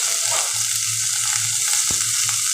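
Drumstick stems and potatoes fry in hot oil with a constant loud sizzle, with a faint low hum underneath and one brief knock partway through.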